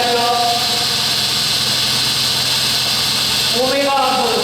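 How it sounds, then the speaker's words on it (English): A gyroscope rotor spins steadily at about 1024 RPM, giving a continuous loud mechanical hum and whir with a broad hiss, while a voice talks over it. "Now this rotor is rotating and we can calculate the speed."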